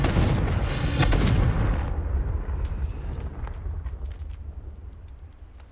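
Confringo spell blast in the Hogwarts Legacy video game, a loud booming explosion in the opening two seconds that fades into a long rumbling decay with faint crackles.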